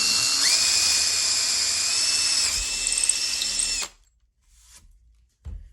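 A power drill bores a hole into a shelf for a threaded insert while fitting floating shelf brackets. The high, steady whine runs for almost four seconds and then cuts off, followed by quiet and a brief knock.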